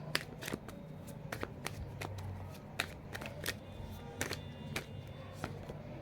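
Tarot cards riffle and snap in a quick, uneven series of crisp clicks at close range, with no talking.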